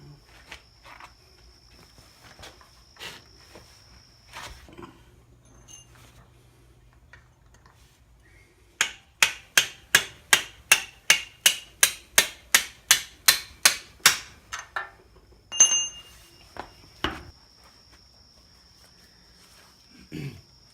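Bolt being hammered out during engine removal on a Yamaha YZ250 dirt bike: a run of about fourteen sharp, evenly spaced metallic strikes, close and loud, with a few scattered knocks before and after and a faint steady whine in the background.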